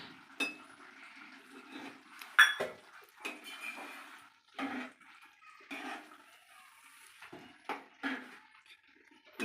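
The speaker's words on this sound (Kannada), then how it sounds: "ಕೊತ್ತಂಬರಿನ ಹಾಕ್ಬಿಟ್ಟು ಮಿಕ್ಸ್ ಮಾಡ್ತಾಯಿದ್ದೀನಿ" A spoon scrapes and clinks against a pan as coriander is stirred into a mushroom curry. Irregular metallic knocks and wet scraping repeat close by, with no talking.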